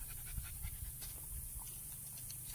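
A dog pants steadily outdoors in quick, rhythmic breaths that stay soft and continuous under a constant background hiss.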